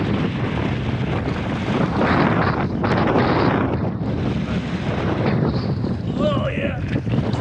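Strong wind buffets the microphone while waves slosh and splash around a Pungo 140 kayak paddled on a windy day, a loud, continuous roar with brief gusts and splashes.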